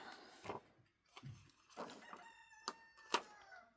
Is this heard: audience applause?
no